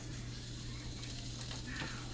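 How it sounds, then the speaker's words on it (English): Steady, close sizzling of trout frying on a George Foreman electric grill, a continuous crackling hiss with a low electrical hum beneath it. "Sizzle, sizzle."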